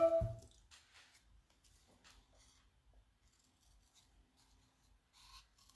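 Scissors snipping through paper by hand for a honey-themed birthday gift bag and card, quiet intermittent cuts and rustles at close range, with no talking.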